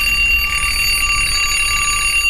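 An alarm clock rings continuously with a bright, high metallic tone, steady and loud throughout, with no voices.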